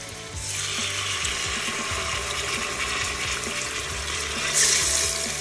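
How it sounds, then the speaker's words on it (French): Meat browning in a pan over high heat for a Tunisian okra stew, a loud continuous hissing sizzle held close and steady throughout, with no one speaking. "toujours en rissolage fort, mais cette fois-ci pour la cuisson de la viande, on lance une cuisson pendant 5 minutes, vraiment histoire de dorer la viande"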